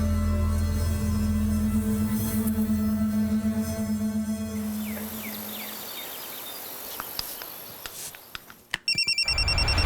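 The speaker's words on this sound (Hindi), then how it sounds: "मुझे यहीं कहीं से मोबाइल की आवाज आई" A mobile phone rings with a repeating electronic tone over a low steady hum that fades, then insect-like chirps and a brief bright electronic chime close out the moment.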